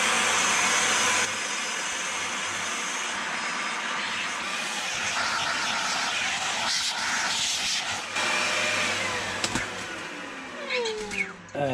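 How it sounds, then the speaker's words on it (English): A vacuum cleaner runs close by during RC car work, a continuous loud whirring roar that shifts in pitch, with a brief thump and a faint voice toward the end. "I'm going to vacuum that a little bit."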